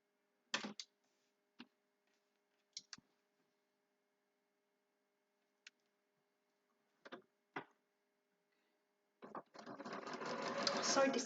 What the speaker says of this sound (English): Did I leave you with that sewing machine all that time?